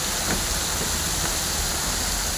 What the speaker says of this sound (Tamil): அவ்வளோ ஜோராக மழை பெஞ்சிருக்கு